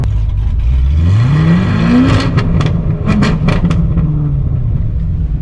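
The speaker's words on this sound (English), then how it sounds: "You're showing off with that loud exhaust." A car with a loud exhaust revs hard nearby, its engine note sweeping up sharply, then settling with crackling pops and bursts from the exhaust, loud and close with no talk.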